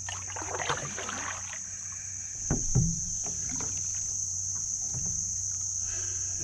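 A Northstar Northwind Solo canoe paddled from a kneeling position, with a few soft paddle strokes and water splashes against a steady outdoor backdrop of buzzing insects and light wind.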